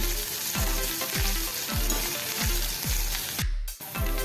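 Onion and green chillies frying in a pan for Indori steamed poha, a loud continuous sizzle overlaid with regular thumping stirs about every half second, no talk.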